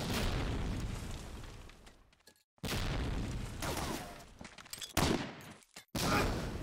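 Grenade blasts in the video game Medal of Honor: Allied Assault during a competitive multiplayer match: loud, broadband booming bursts that cut off abruptly, several in a row with short silent gaps between them.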